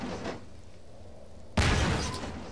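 In the video game Half-Life 2, a sudden loud broadband blast of a car exploding erupts midway after quiet background rumble, then sustains as a roaring burst.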